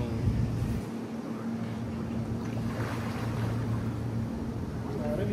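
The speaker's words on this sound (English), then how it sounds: "Wind blowing." Steady wind blows across the microphone beside a pool, a broad continuous rush that stays at even strength throughout.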